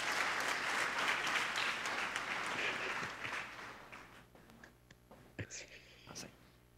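A church congregation claps for its young people during a confession service, a dense wash of applause that thins out into scattered claps and murmurs.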